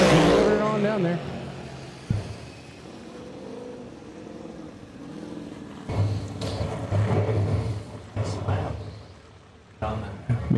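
A Hellfire Speed Shop-tuned GT 500 drag car launching down the strip at a drag racing nationals event, heard as a loud engine roar that surges in bursts around ongoing commentary and crowd noise.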